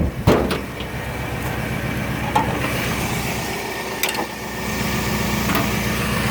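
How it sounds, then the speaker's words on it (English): A 1993 Chevy G25 van engine idles steadily with a new exhaust, a low continuous rumble close by, with a few brief knocks and clicks on top and no talking. "New exhaust."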